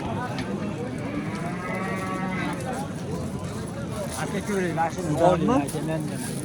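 A cow lows at the Yakkatut livestock bazaar in Andijan, two drawn-out moos of moderate loudness amid crowd noise, while people talk nearby.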